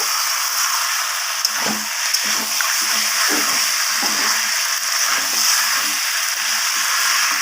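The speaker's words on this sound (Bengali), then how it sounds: "মশলা এবং আলুর সাথে ভালোভাবে চিকেনগুলোকে আমি কষিয়ে নেব" Marinated fried chicken is sautéed with spices and potatoes for chicken curry, a steady broad sizzle running throughout with soft repeated stirring scrapes underneath, close and fairly loud.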